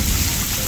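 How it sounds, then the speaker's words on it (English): Heavy rainstorm pouring down outdoors over a backyard vegetable garden, a dense, loud, continuous wash of rain noise filling the whole short moment. "it is storming like crazy now"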